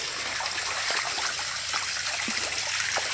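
A waterfall pours into a pool, giving a continuous close hiss and splash of falling water with small trickling bursts throughout.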